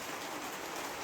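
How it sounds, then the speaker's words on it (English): Steady rain falling outside a cabin on a wet day, a continuous dense hiss of drops on surfaces, even and unbroken with no voices. "This rain just is not giving me a break at all."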